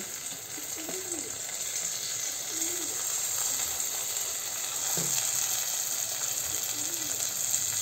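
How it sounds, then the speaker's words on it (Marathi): Steady, dense sizzle of corn frying in cow ghee in a pan, continuous and fairly close throughout, with a few faint bird chirps in the background. "हे सगळं परतण्यासाठी आपण थोडेसे कॉर्न घालूया त्यामध्ये"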